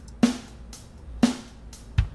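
Steven Slate Drums samples triggered by Logic Pro X's Drummer land as two sharp snare-like hits a second apart, then a low kick near the end, sparse and fairly quiet.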